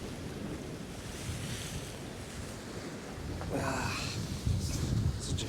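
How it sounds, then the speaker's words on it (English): Rough sea waves surge against a Northumberland shore during winter cod fishing, a steady roar of surf with wind buffeting the microphone, swelling louder toward the end. "The sea's definitely picking up."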